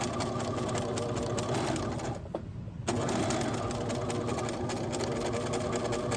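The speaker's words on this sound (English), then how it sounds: "I'm just making sure I'm not sewing down the folded up shirt." A sewing machine stitches a shirt yoke with a fast, continuous mechanical whir up close, pausing briefly midway before running again.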